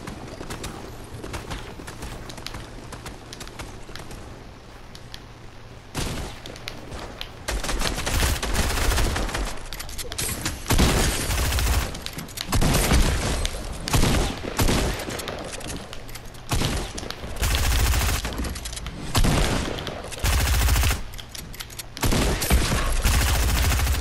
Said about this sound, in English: Dude literally shoots me through builds.